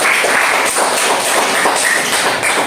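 Classroom applause for a student's correct answer, a dense, steady wash of many hands clapping at once, loud and close, lasting a few seconds without pause.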